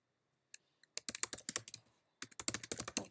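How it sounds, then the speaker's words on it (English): Typing on a computer keyboard in a quiet room, a few isolated key taps followed by two quick bursts of rapid keystrokes separated by a short pause, close and crisp with no talking. "we can even type in stuff here"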